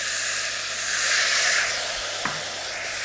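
Chicken frying in a pan with sunflower oil and dried chillies hisses into a broad burst of steamy sizzling as white wine hits the hot pan, swelling then settling, with one small clink near the end.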